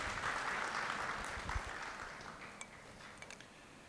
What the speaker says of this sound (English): welcome him on stage as well with a round of applause